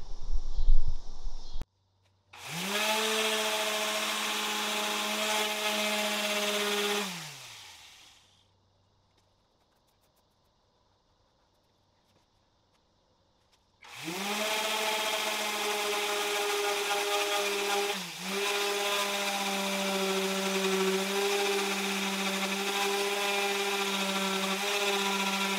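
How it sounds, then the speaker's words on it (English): Power sander stripping paint off a car body panel before welding washers on for dent pulling, a steady high whirring drone in two long passes separated by a silent gap, close and without speech. "we're gonna start by sanding off all the paint so that we can weld the washers on"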